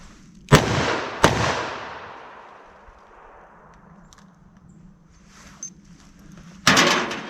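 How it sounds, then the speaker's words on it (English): Two loud revolver shots in quick succession fired with a classic law enforcement load, each ringing out and decaying slowly, then a third sharp report several seconds later, with no talking. "I'm going to fire off what I think would be more than enough to stop an attacker"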